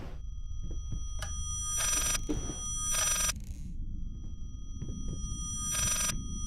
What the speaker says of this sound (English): ringing noise.